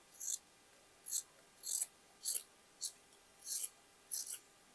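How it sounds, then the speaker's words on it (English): Scissors cutting through old shirt fabric, seven crisp snips in a steady rhythm, close up and fairly quiet against a near-silent background. "And let's cut it"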